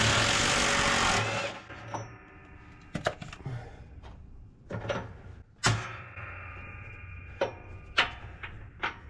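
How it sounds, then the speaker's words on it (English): An impact wrench works a 14 millimeter bolt on a Poulan riding mower, giving one loud, close buzzing burst of just over a second, followed by scattered metallic clanks and knocks of tools and parts. "I just broke it loose with the breaker bar, but we'll try the impact on here."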